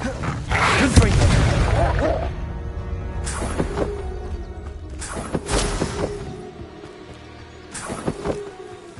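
Fire spells go off in Hogwarts Legacy as a run of heavy bursting blasts with roaring whooshes, four big hits spread over several seconds, while a voice calls out spell names between them.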